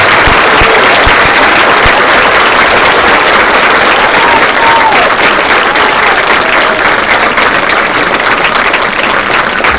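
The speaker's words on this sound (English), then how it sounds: "them a great round of applause." Loud, dense applause fills a 2023 high school graduation ceremony, a roaring crowd clapping steadily for nearly ten seconds with a few sharp claps standing out near the start.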